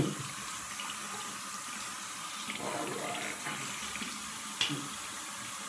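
Tap water running steadily into a sink while rinsing off after a wet shave, a continuous close hiss with a brief splash near the end.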